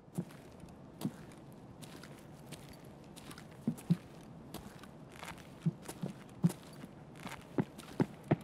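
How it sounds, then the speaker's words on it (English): Footsteps in Escape from Tarkov, a string of soft, fairly faint thuds with an uneven walking rhythm, scattered across the stretch with no one talking over them. "I hear footsteps."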